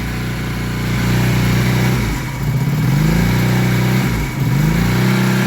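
A Honda CD 175 motorcycle engine, a barn-find restoration, runs with the choke on and revs high, surging and dipping twice in a loud, close, steady drone.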